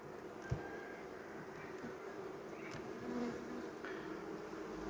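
Honey bees swarm and buzz at a hive in an old apiary in September, a steady dense hum close by with no talk over it.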